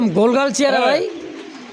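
A pigeon gives a short rolling coo close by while someone talks over it in Bengali; the bird is one of a lively, round-bodied fancy pigeon pair offered for sale.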